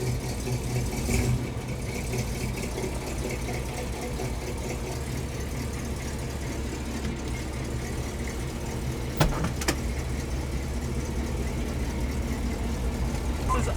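A Chevy C20 tool truck's engine idles in a steady, droning rumble heard from inside the cab, with a couple of brief clicks partway through.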